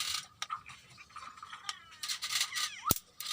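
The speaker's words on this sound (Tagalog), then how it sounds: "Mosquito electric killer" An electric mosquito killer racket crackles with short, sharp zaps, several faint snaps followed by one loud, bright crack near the end, close by.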